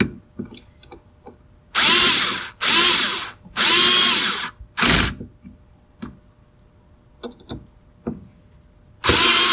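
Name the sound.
power tool tightening bolts on a racing steering wheel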